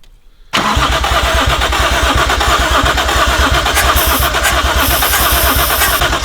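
After a brief quiet moment, a 1JZ car engine cranks loudly and continuously in a fast, steady rhythmic whirr without starting, close to the listener, with no voices.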